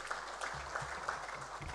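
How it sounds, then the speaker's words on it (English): Applause from a seminar audience at an international trade event, a moderate steady patter of clapping lasting under two seconds, with low rumble and faint voices beneath. "Please a round of applause for him."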